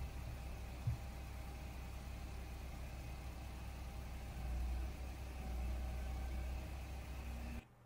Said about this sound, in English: as you can see, the motor sounds good